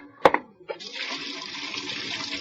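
Hot water runs from a tap in a steady, fairly loud hiss that sets in after a few brief clunks and bumps, continuing alone without talk.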